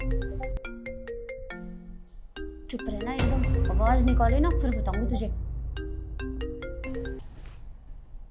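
A phone ringtone chimes in a repeating melodic pattern, with someone speaking over the middle of it before the tune continues alone.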